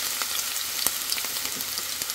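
Chopped onion and a little chopped garlic frying in a pan over the stove, a close, dense and steady sizzle with light crackles throughout.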